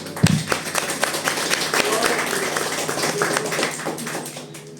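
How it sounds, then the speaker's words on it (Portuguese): Church congregation clapping in praise, opening with a sharp thump and then a steady stream of crisp rhythmic claps with some talk underneath, moderately loud and close. "Aplauda o Senhor."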